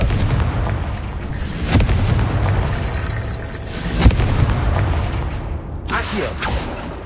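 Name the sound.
Confringo explosion spell, Hogwarts video game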